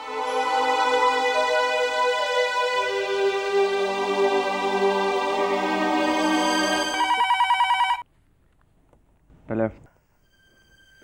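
A telephone rings indoors with a loud, sustained electronic trill for several seconds, then cuts off abruptly, followed by a brief click and near silence.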